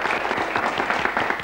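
A French-language television studio audience applauds as a player is introduced, a brief, dense and steady round of clapping close and loud throughout.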